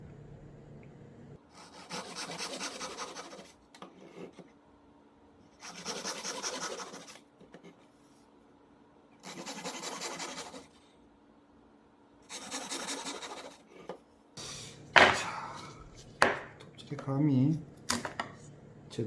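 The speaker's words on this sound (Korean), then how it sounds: "이 정도 감으로 톱질을 계속 해나가면 됩니다" A hand saw rasps through wood for a traditional Korean flower-lattice door in four steady bursts of back-and-forth strokes, each lasting a couple of seconds, followed by scattered scraping and knocking.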